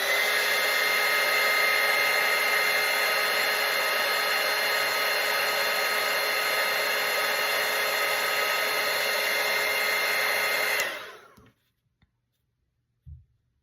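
A steady, loud whirring drone from a dryer blowing on a painted manger, running continuously before cutting off and leaving near silence with a small knock.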